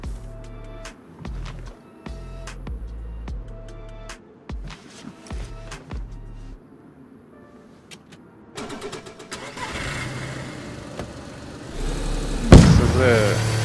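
In the DayZ video game, a car is accessed with door clunks and clicks, then its engine cranks and starts up, rising into a loud running roar near the end as players talk.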